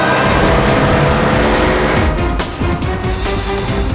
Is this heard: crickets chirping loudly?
no